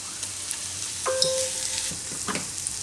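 Garlic and ginger sautéing in butter in a pan for drumstick soup give a soft, steady sizzle, with a few brief stirring scrapes and a short tonal clink near the middle, close and fairly quiet, with no talk.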